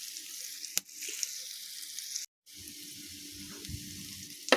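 Curry leaves crackle and sizzle in hot oil for a Telugu-style tempering, a steady bright hiss near the pan that cuts out briefly, then returns with low clattering from the stove or pan.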